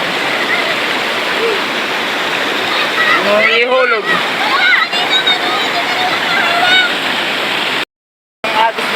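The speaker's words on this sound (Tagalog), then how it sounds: "Ayan guys, yung tubig dito, grabe lakas." Strong rushing river current roars loudly and steadily throughout, with nearby shouting voices over the water and a brief dropout near the end.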